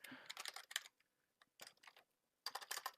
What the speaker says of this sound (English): I should look at the keyboard when I type.